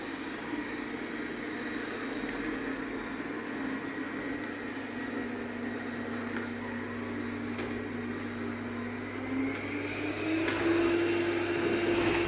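Roidmi Eve Plus robot vacuum roaming a house while mapping it, a steady close motor whir and hum that holds throughout and rises slightly in pitch near the end.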